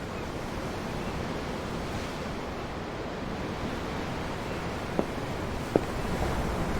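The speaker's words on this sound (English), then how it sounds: "The ocean? Yeah. The waves." Ocean waves in the game Tales of Arise, heard from aboard a ship as a steady, broad wash of surf with wind-like hiss, close and even, with two faint brief clicks near the end.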